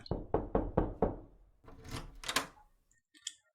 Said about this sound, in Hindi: कुछ सोच के दरवाजा बजाया।